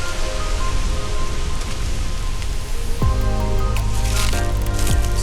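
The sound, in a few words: garden hose spraying water on a dog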